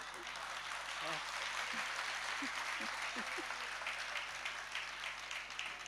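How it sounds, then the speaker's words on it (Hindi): A seated audience at a religious discourse claps in a dense, steady patter that lasts throughout, with a voice speaking over it. "अब ये तालियां काय के लिए बजा रहे?"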